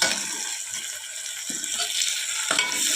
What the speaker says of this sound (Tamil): வெங்காயம் போட்டு வதக்கலாம் வெங்காயம் இப்போ கொஞ்சம் வதங்க உடனே இஞ்சி பூண்டு பேஸ்ட் சேர்த்துக்கலாம்